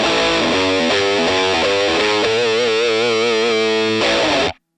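Overdriven electric guitar through a HeadRush pedalboard holding chords with a wavering, chorus-like shimmer, loud and continuous before cutting off abruptly.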